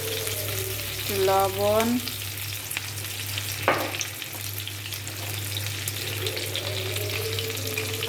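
Chopped onions fry in hot oil in a pan with a steady broadband sizzle, and a couple of stirring scrapes cut in partway through. A low steady hum sits underneath, and a voice briefly speaks over it.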